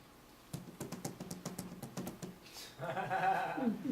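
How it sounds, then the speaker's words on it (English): Quick, irregular clicks of typing on a computer keyboard sound up close for a couple of seconds, then give way to someone speaking softly. "Okay, I will start typing."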